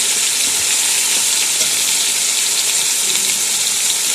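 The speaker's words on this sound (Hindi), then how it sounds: "अभी हम चिकन को पकाएंगे तब तक जब तक इसका कलर चेंज हो जाए, यानी कि चिकन का पानी खुश्क हो जाए।" Chicken pieces frying in a pot for chicken pulao, a loud, steady sizzle throughout with a constant hiss and no talking.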